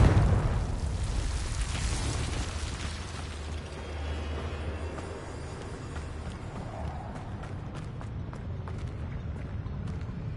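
A Confringo fire-blast spell from Hogwarts Legacy detonates in a broad roaring explosion that starts loud, then settles into a long crackling, rumbling decay with scattered debris clicks and pops.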